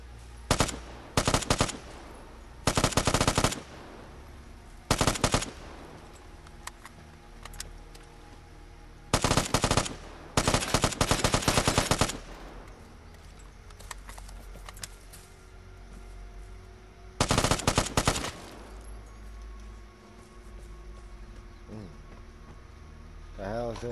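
Automatic gunfire in the shooter game Vigor: several loud rapid bursts, some brief and some lasting a second or more, separated by quieter stretches of faint background game sound.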